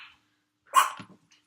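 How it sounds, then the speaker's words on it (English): A single short dog bark rings out, fairly close, followed by a brief muffled yip, with quiet around it. "Sorry about the dogs barking"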